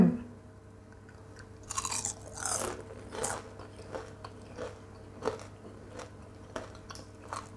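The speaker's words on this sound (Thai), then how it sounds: "เดี๋ยวชิมให้ดูชิ้นหนึ่งเนาะจ้ะเนาะ" Someone bites into and chews crispy deep-fried chili snacks coated with sesame, loud crunches at first giving way to a steady run of softer close-up chewing crackles.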